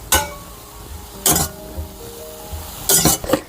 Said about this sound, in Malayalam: എന്നിട്ട് അത് ഇളക്കി കൊടുക്കാം.